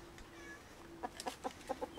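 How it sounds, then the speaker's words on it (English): Farm chickens give a quick run of short clucks in the second half, fairly close but soft, after a quieter stretch with a faint steady hum. "There's the birds."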